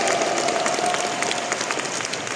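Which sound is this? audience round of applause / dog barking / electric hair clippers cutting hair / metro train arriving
audience round of applause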